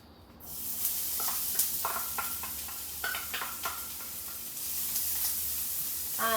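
Onion sautéing in a very hot pan as the base for a Latin sofrito. A broad, steady sizzle runs throughout, with the clatter of stirring in the middle and no speech.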